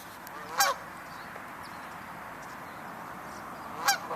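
Two geese at a winery call out with a pair of brief, bright honks about three seconds apart over a steady outdoor hiss, fairly near and with no talking.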